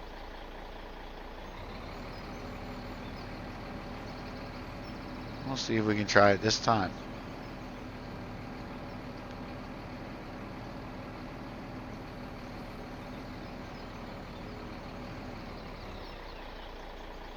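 Trucks crawl through road traffic in the video game Mountain Valley, a low steady engine drone with a brief louder tonal warble in the middle and someone talking over it.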